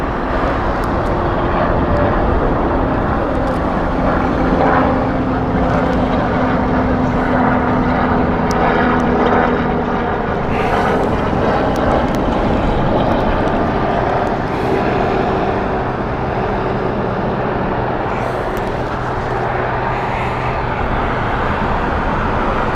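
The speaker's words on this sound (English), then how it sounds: "now the helicopter has been given the green light. It can now pass, and it has." Loud, continuous rotor and engine roar from a helicopter passing near the runways at Heathrow Airport, with a steady rumble that swells and fades gently over about twenty seconds, no talking.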